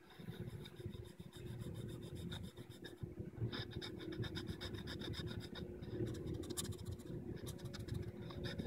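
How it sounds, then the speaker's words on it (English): Steel wool scraped across guitar fret ends after filing gives a quiet, continuous scratchy rasp in short repeated strokes, close up, with no talking. "So I just take some steel wool."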